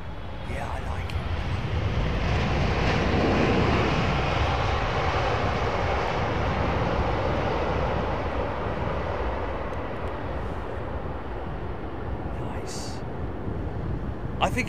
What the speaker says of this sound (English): Oh, here we go, Emirates 777,